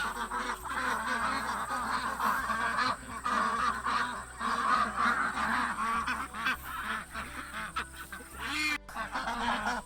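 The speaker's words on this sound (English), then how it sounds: "Look at them happy duckies." A flock of farm ducks honks and quacks constantly, loud and overlapping, with a steady low hum underneath.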